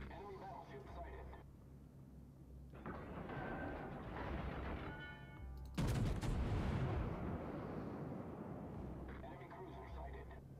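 Warship guns fire in World of Warships naval combat, with a heavy broadband boom rumbling out midway over continuous engine and battle noise, and a voice is heard at times.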